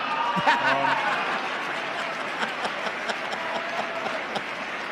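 Audience applause and scattered laughter fill a room, moderately faint and steady, with a voice talking and chuckling over it near the start.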